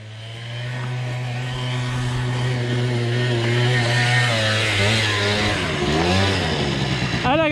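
A small scooter engine drones steadily and strains, its pitch rising and wavering as it revs hard under load climbing a hill, loud and close.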